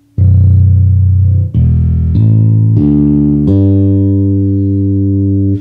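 Loud, sustained low bass guitar notes played through a Hartke TX300 bass amplifier, several long held tones in a descending-then-rising sequence, each ringing with rich harmonics, heard alone.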